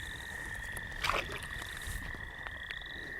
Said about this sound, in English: This is a green frog.